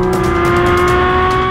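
A Porsche 718 Cayman GT4 RS engine holds a loud, steady high-pitched wail, strong tonal harmonics sustained at high revs for a brief stretch, close and dominant.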